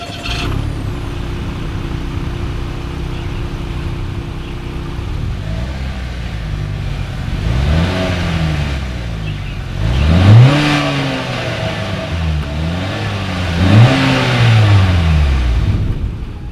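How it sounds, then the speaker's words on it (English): A 2020 Acura RDX engine idles steadily, then revs up repeatedly through the exhaust in several rising and falling surges, loud and close, with no talking. "As always, here is that exhaust clip."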